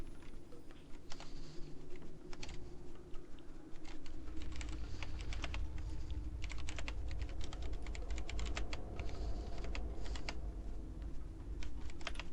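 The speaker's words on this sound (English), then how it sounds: "So much clicking involved in doing this." Rapid mouse clicks and computer keyboard taps come in irregular clusters during digital drawing, close and crisp over a low room rumble that grows after the first few seconds, with no speech.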